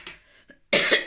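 A woman coughs, starting with a small throat sound and then a harsh, loud burst of coughing in a quiet indoor space.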